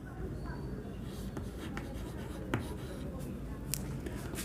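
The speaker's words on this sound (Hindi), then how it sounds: "तो उसी चीज को लिखते हैं," Chalk or marker writing on a classroom board, a run of scratchy strokes with sharp taps and clicks over a low room murmur.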